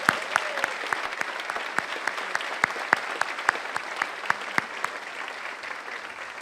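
Graduates and guests at a 2017 university convocation clap steadily, a soft, even patter of many hands with a few sharper claps standing out, moderately distant and without any voices.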